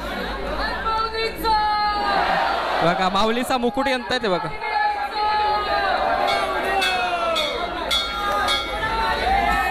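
A large crowd chatters at the Dronagiri temple palanquin festival in Karanja, Uran, in 2025, a steady babble with faint clinks underneath while a nearby voice talks over it.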